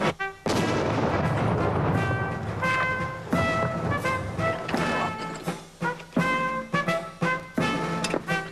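Historic artillery cannons firing a salvo, several loud booming shots spaced irregularly, each with a sharp attack and a rolling decay, followed by softer clattering and thuds.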